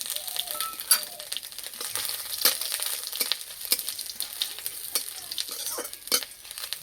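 Whole cumin, grated ginger, dried chilli and bay leaf frying in hot oil, a steady close sizzle with crackling pops and stirring scrapes throughout, no talking.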